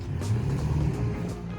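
An off-road vehicle stuck in terrain, its engine revving in a steady, loud low rumble that swells and holds without a break, with no talk over it.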